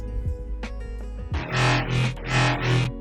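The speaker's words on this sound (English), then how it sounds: "I went ahead and put hyperdimension, distortion, chorus, and delay." A thick, distorted synth bass made in Serum plays swelling, wobbling notes with a chorused, spacious tail, loud and alone.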